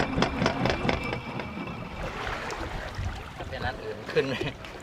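A motorboat engine drones steadily at moderate distance during a boat ride in Thailand, with water and wind noise and some indistinct voices mixed in.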